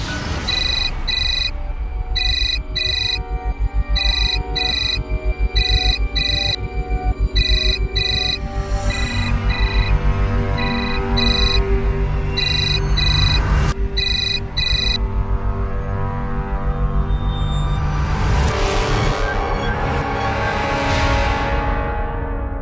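An electronic phone ringtone repeats cycle after cycle with no one answering, followed near the end by a couple of swelling whooshes.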